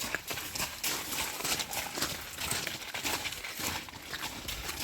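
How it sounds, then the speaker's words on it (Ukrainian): A mare's hooves clip-clop on the ground in a quick, uneven run of close, sharp knocks that carries on steadily throughout, with no voices over it. "Кобила"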